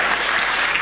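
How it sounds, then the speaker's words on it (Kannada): An audience at a public welcome ceremony in Jamkhandi for a soldier returning after 17 years of army service claps steadily. The dense crowd applause is even and sustained, with no voices above it. "ಸ್ವಲ್ಪ ಜೋರಾಗಿ ಚಪ್ಪಾಳೆ ತಟ್ಟಬೇಕು."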